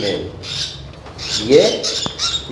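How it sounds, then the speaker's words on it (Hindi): Red-eyed albino bird chicks cheep in short, high-pitched bursts among their parents in a breeding setup, several faint chirps spread through a noisy indoor space with a soft voice underneath. "ये चींची करता हुआ बच्चा है इतना"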